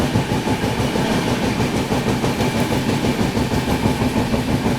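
A passenger train with ICF coaches passes alongside, heard from aboard another train as a loud, continuous rumble with fast rhythmic rattling and clatter of wheels on track, up close and unbroken.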